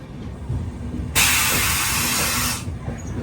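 A train hauled by a WAP-7 locomotive stands at Ajmer Junction station; a loud, steady hiss of escaping air bursts out for about a second and a half over a low, rumbling station background, then cuts off.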